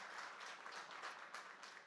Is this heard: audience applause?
yes